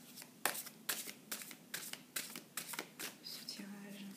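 Tarot cards drawn from the deck and shuffled, a series of crisp papery slaps and flicks coming about every half second, close up, with a voice speaking softly nearby.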